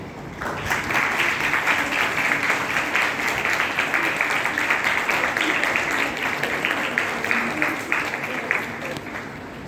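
A school audience at a French Day assembly claps for an extended stretch, dense overlapping claps forming a steady roar that continues evenly before thinning slightly near the end.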